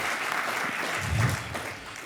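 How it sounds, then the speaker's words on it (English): Audience applause at a speech honouring security officers and janitors, a short dense burst of clapping at steady loudness with a voice faintly mixed in. "we owe you a round of applause"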